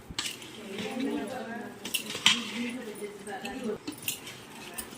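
Raw cucumber chutney pieces are stirred with chilli powder, giving scattered clinks and scrapes of a spoon against a dish while a voice talks over the mixing.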